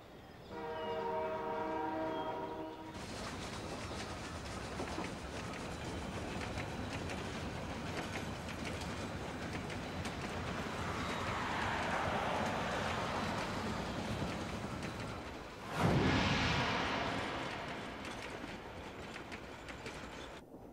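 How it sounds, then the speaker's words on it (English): A train runs in the video game Fullmetal Alchemist and the Broken Angel, with a steady rumble and rhythmic clatter throughout, a brief tonal horn-like burst at the start and a sharp loud hit near the end. "And they're on a train heading to somewhere."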